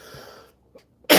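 A single sharp, loud cough bursts out at the end, following a stretch of low murmur and a brief faint click.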